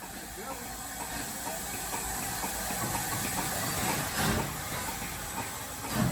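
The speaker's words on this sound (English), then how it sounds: "it was time for one last departure so that the S160 could return to Cheddleton with the empty coaches" A steam locomotive, an S160, hisses loudly and continuously, with a rumbling engine and rail noise as it gets moving with empty coaches on the Churnet Valley Railway.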